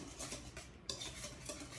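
A handled whisk stirring scone batter in a bowl, producing quiet, steady rhythmic scraping and tapping strokes with no voices.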